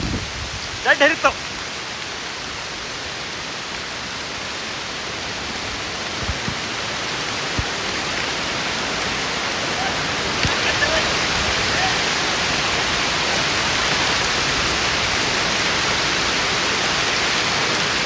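A steady, heavy downpour in a Western Ghats forest roars as a dense, close hiss that swells slightly louder in the second half, with a few brief knocks early on.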